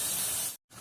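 Water poured onto tomatoes cooking in a hot pan gives a loud, steady hiss, broken by a brief silent gap before the sizzle resumes.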